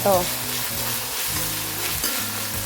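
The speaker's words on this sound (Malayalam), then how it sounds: "ഇതിലേക്ക് ഞാനിതാ രണ്ട് സബോള ചെറുതായി കട്ട് ചെയ്താണ് കേട്ടോ അത് അതിലേക്ക് ഇട്ട് കൊടുത്തു എന്നിട്ട് ഒന്ന് വഴറ്റിയെടുക്കാം" Chopped onions sauté in a pan with a steady, fairly loud sizzle, joined by a faint musical tone in the background.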